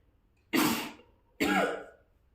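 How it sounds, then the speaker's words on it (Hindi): Two separate coughs, loud and close, each a sharp burst that trails off, with a short pause between them and no talking. "सॉरी, मुझे थोड़ा खांसी हो रहा है।"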